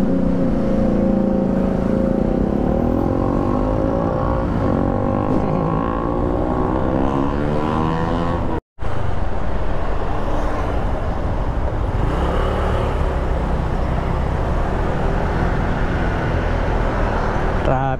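Dense, loud road traffic rumbles close by, with a rising engine whine early on. The roar cuts out briefly midway, then continues steadily.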